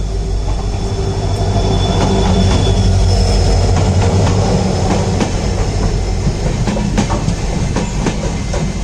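Mandovi Express special train passing at a crossing in Sindhudurg, a loud continuous rumble of rail wagons with clickety-clack wheel beats and occasional metallic squeals, steady throughout with no talking.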